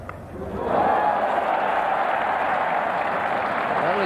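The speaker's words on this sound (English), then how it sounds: "Give him a very generous round of applause." Cricket crowd at a 1987 England v Pakistan Test at Headingley applauding a batsman reaching fifty, with steady sustained clapping and a wash of crowd noise throughout.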